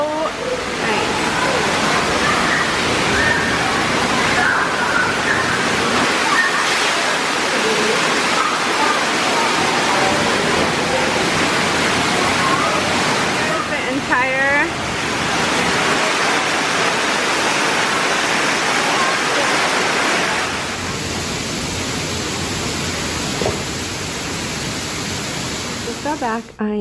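Lazy river at a water park in Myrtle Beach, with constant rushing, splashing water filling the scene and a voice chirping briefly through the wash.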